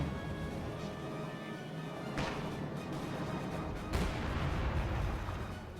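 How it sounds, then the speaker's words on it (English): Mortar shells burst in a Brits versus OKW real-time strategy game battle, two heavy crashing impacts landing about two seconds apart over a constant rumbling backdrop of distant combat. "those 2 mortar shells just wrecking"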